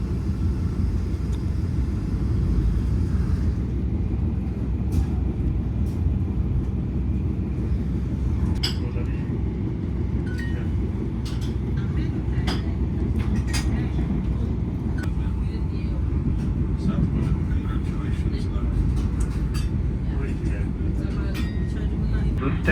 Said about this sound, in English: The blue train is traversing through Series.